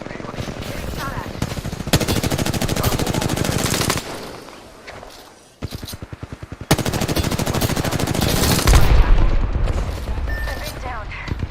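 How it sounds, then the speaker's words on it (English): Rapid automatic gunfire and bursts of shots in a battle-royale style video game, dense and loud, broken by a brief lull before firing resumes, with heavy booms near the end. "Getting shot at."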